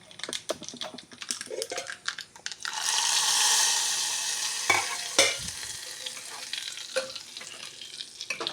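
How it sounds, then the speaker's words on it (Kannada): A tempering for curd gojju crackles and fries in hot oil, starting with sharp spatters and stirring scrapes, then swelling into a loud steady sizzle as it is poured and stirred, close and without talk. "ಈಗ ಒಗ್ಗರಣೆ ಆಯಿತು."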